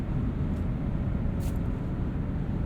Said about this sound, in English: There's a little bit of wind noise, a little bit of tire roar